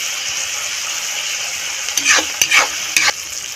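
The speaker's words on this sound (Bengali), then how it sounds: "এইভাবে ভেজে নেবেন।" Vegetables frying in a pan for a Bengali bhorta or chorchori dish give a steady loud sizzle, with a few brief scraping stirs near the end.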